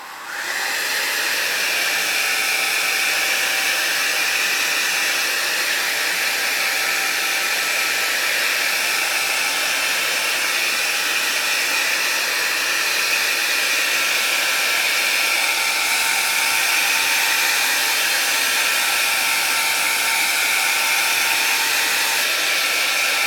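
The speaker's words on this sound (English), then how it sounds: "I'm going to get my hairdryer" A hair dryer blows steadily and loudly from start to finish, a continuous high whooshing hiss with a faint whine, with no voices over it.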